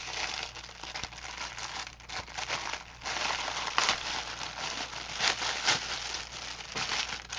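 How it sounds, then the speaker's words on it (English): Plastic packaging from an online-order unboxing crinkles and rustles continuously up close, in irregular crackling bursts with no talking. "Sorry for the crinkling."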